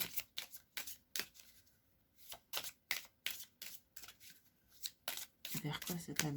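Tarot oracle cards are shuffled and drawn in quick riffling bursts, close and crisp, with a longer flurry of shuffling near the end.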